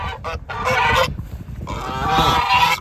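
A male goose honks in repeated harsh bursts during mating season on a windy homestead, loud and close, with a short pause midway before another long run of calls.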